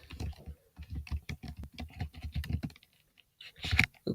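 Close, quick keystrokes clatter on a computer keyboard in irregular bursts, pausing briefly before a final flurry of taps.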